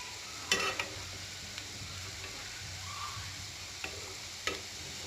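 Modak frying in oil, a soft continuous sizzle close by with a few sharp ladle clinks scattered through, faint overall.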